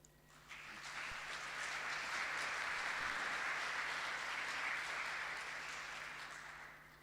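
An audience at a savanna science network meeting claps after a scientific talk, a steady burst of applause that swells quickly, holds for several seconds and then fades, heard from the room at moderate distance.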